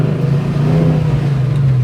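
A 1969 Chevelle with a 383 stroker engine holds a loud, steady, close-up engine drone with a deep rumble throughout a short stretch, with no voices.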